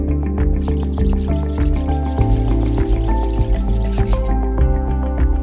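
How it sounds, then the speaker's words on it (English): Slurry sap liquid additive poured into water in a slurry waste management bin, a close, steady splashing and dripping fill with bubbling tones, no talk. "adding approximately 100 ml of slurry sap to help pre-flock the water"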